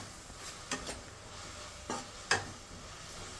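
Vegetables fry with tamarind in a pan, a faint, soft hiss broken by a few sharp scrapes and clinks from stirring.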